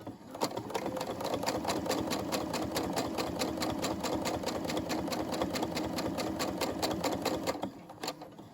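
A Brother SE600 sewing machine stitches a fabric key fob in a rapid, steady needle rhythm lasting several seconds, close and clear, then stopping with a few final clicks.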